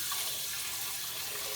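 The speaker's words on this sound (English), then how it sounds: "And we can just add a little water" A little water pours into curry kabocha soup with ginger and turmeric, a soft continuous rush of running liquid heard close and fairly quiet throughout.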